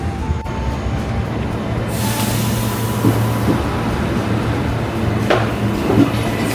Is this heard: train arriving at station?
yes